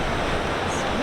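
Ocean surf at a San Diego beach with longboarding waves rolling in, heard as a dense, steady wash of broadband noise without clear individual breaks, close and loud through the whole second.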